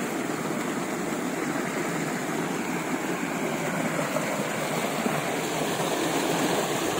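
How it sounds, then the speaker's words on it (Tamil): A compressor pumps water from two borewells into an open farm well, a steady, even rushing of flowing water with a low mechanical hum beneath, constant and unbroken throughout. "இது கம்பர்சர்."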